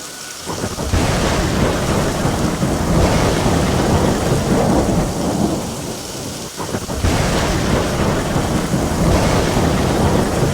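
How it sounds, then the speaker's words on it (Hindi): Heavy rain pours down steadily in a loud, dense hiss, with rolling thunder rumbling in long swells, one brief lull midway before the downpour surges again. "बारिश बहुत हो रही है"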